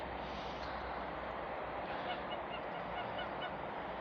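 Geese and ducks kept outdoors on a farm in freezing winter weather, with scattered faint honks from a few geese over a steady wash of wind or outdoor noise.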